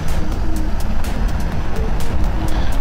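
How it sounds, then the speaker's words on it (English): Deep, steady exhaust rumble from a green 1997 Chevrolet Camaro Z28 idling nearby, a continuous low throb with slight pulsing and no talk over it. "Love the exhaust."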